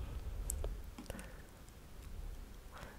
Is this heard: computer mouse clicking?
yes